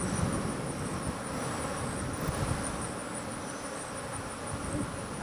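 A captured swarm of honeybees hums continuously near a prepared hive, a steady, moderately faint drone with no pauses and no talking.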